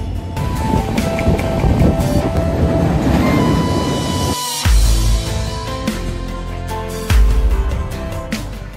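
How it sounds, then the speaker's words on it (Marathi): The 11004 Sawantwadi–Dadar Tutari Express on the Konkan Railway rushes past from the opposite direction in monsoon weather, a loud, continuous rumble and clatter of wheels with a sharp break mid-pass, then heavy rolling noise again. "समोरून प्रवास होत आहे 11004 सावंतवाडी दादर तुतारी एक्सप्रेस."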